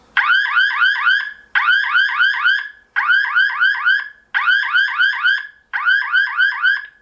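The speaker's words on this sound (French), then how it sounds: "On a l'alarme qui est ici, donc en fait ça va déclencher une sirène." A SimCam 1S smart security camera sounds its loud siren alarm in repeated bursts of rapid warbling tones, five pulses with short gaps between them, with no voices.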